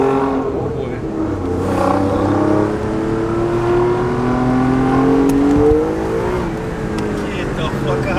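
Alfa Romeo Giulia Quadrifoglio engine with a ZF 8-speed transmission, revving up loud and close with rising and falling harmonic pitch sweeps across several seconds, while people talk over it inside the car.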